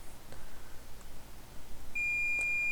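A multimeter in diode mode gives a single sustained electronic beep while probing an iPhone or iPad logic board, clear against quiet background hiss.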